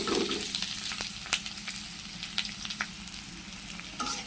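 Chillies, onion and crushed garlic frying in hot oil with a constant bright sizzle, broken by a few sharp scrapes as the pan is stirred, close and steady.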